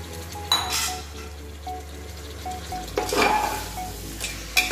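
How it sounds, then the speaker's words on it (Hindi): Mutton dropped into hot oil with browned tomatoes in a pan for a homemade Indian mutton curry, giving bursts of sizzling and frying with clinks of pan and utensils, close by and with no talking. "ये डाला हमने मटन"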